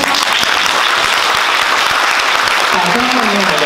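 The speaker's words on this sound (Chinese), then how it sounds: "掌声欢迎我们科大跟他的现场" A lecture audience breaks into dense, sustained clapping, loud and close, with a voice rising over the applause near the end.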